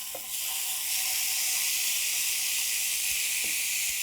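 Beef hits a hot stir-fry pan and gives off a loud, steady sizzling hiss that starts suddenly and holds at full strength, with a few faint ticks underneath.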